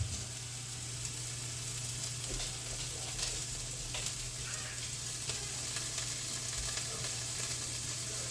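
Garlic sizzles in a hot pan, a soft steady frying hiss with small crackles, close and fairly quiet, continuing without pause and with no voices.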